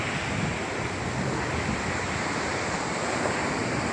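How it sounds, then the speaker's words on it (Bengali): Sea waves wash steadily onto the shore at Malappuram, a broad continuous roar of surf with wind rushing across the microphone, fairly loud and unbroken with no voices. "সমুদ্র অনেক সুন্দর"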